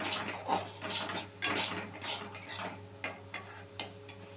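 Spices, including a little ground cumin, are stirred and fried in a pan for a cauliflower dish, with a spoon scraping and clinking against the metal in irregular strokes over a faint low hum and no sizzle.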